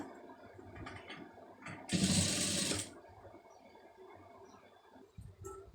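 A sewing machine stitches a folded hook strap: a quiet mechanical clatter, then a louder whirring burst of about a second, followed by softer intermittent ticking.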